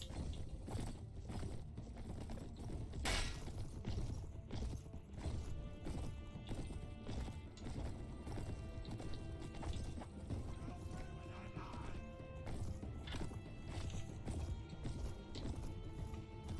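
A horse gallops through a Mount & Blade: Prophecy of Pendor battle, hooves drumming steadily amid a busy clatter of fighting, with a brief neigh or crash standing out early on.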